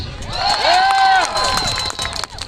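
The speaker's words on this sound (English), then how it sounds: "You just heard people yelling because they are involved in a fight." Several people yell and shout at once in an outdoor crowd at a nighttime vigil in a Kansas City park, loud and close, with overlapping raised voices that fade toward the end.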